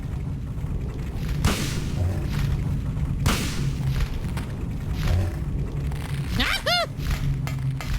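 Gunshots in the 1999 video game Silent Hill, two sharp booming blasts a couple of seconds apart over a low droning background, followed by a rising metallic ringing whine.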